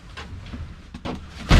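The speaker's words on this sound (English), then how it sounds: "There is a lock on the shower door," A shower door latch is locked inside a Winnebago Spirit 22R/22M motorhome bathroom, giving a few soft close clicks and a short sharp knock at the end, close by.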